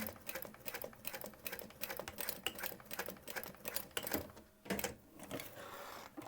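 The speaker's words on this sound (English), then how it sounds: "Back stitching those into place, and then sewing up the side." A sewing machine back stitches a waistpack: a rapid, steady run of needle clatter that pauses briefly and restarts with a few separate stitches, close and fairly quiet, with no talk.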